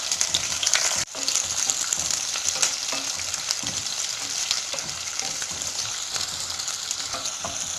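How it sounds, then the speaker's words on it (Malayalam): Onions frying in hot coconut oil for a Kerala-style fish curry give a strong, steady crackling sizzle with occasional stirring clatter, close and alone. "വെളിച്ചെണ്ണ ഇപ്പൊ ചൂടായിട്ടുണ്ട്. ഇതിലേക്ക് നമുക്ക് സവാള ഇട്ട് കൊടുക്കാം."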